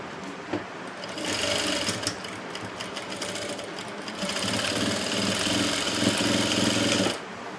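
A sewing machine stitches a blouse seam in a loud, continuous mechanical rattle. The run pauses briefly near the middle and stops abruptly at the end.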